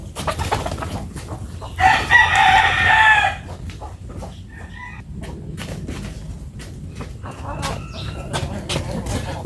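Farm chickens cluck and squawk nearby on a feeding round, with a rooster's loud crow rising briefly near the start amid continuous background bustle.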